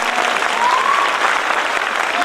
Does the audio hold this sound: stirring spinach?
no